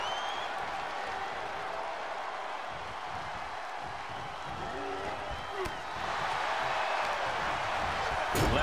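Wrestling arena crowd in the WWE 2K24 video game, a steady broad roar of cheering and applause that swells louder toward the end, with commentary talk over it.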